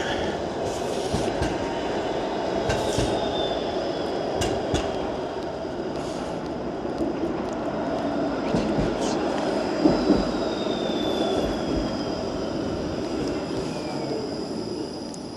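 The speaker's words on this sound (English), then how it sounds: "E504 King streetcar, not that busy either." An E504 King streetcar in Toronto rolls past on a city street during a Thanksgiving Monday walk, a steady rumbling rail roar with faint wheel squeal and clatter, moderately close and sustained throughout.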